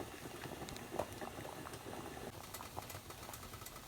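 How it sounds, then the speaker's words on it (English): Pasta bubbles in a pot of salted water at a steady, soft rolling boil, quiet and close, with no other sounds. "And we're gonna let it boil"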